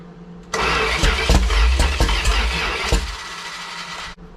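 A Big Block 400 engine cranks on a cold morning, the starter churning through several uneven, labored revolutions for about two and a half seconds before cutting off without catching.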